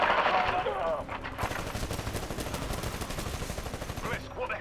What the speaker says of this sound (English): We're being targeted by our own guns.